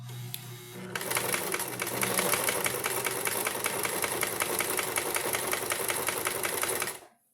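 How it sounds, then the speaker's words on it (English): A sewing machine straight-stitches a fabric face mask, starting after a brief pause with a rapid, steady mechanical clatter that runs evenly close up before stopping abruptly. "And I'm just straight stitching just where it's hitting the zigzag the points."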